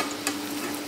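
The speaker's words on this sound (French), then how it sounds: "Je vous montre la cuisson de l'igname." Yam frying in a pan makes a short, steady sizzle with a faint clink or stir partway through, close and unbroken, with no speech.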